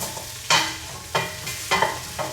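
Diced pepper being stirred into a pot of fish soup, four scraping swishes of a spoon at roughly half-second intervals over a low background, close and clear, no speech.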